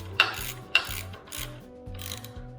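A ratchet clicks in short bursts while a mechanic snugs down the mounting bolts on a LeoVince LV-10 motorcycle exhaust, with close metallic pawl clicks and brief scraping pauses.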